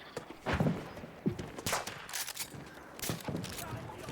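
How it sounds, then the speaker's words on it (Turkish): Battlefield 1 gunfire, faint and distant, with scattered shots and snapping bullets passing close by in a sparse, irregular pattern. "yakınımdan geçiyor mermiler"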